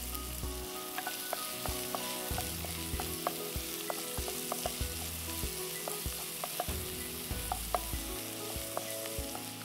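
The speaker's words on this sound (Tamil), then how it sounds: "வெங்காயம் லேசாக வதங்கட்டும்" Onions sautéing in a frying pan, a steady close sizzle with scattered scraping stirs throughout, no voices, for a palm-root rice dish being cooked with mint and coriander to follow.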